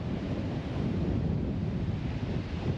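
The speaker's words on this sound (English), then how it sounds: "Currently a black southeaster, as you can hear." A black southeaster wind blowing strongly across the beach at Gordons Bay, a constant roaring rush with buffeting against the microphone and surf beneath it, no voices.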